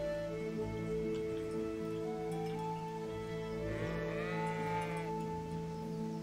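A sheep bleats once, faintly, in the medieval game Kingdom Come: Deliverance, a wavering cry rising out of a steady background hum and ambient tones.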